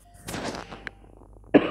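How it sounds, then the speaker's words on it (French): A woman with a cold coughs once, a short sharp burst near the mic, after a stretch of low indistinct sound. "je suis un peu enrhumée, je tousse un petit peu"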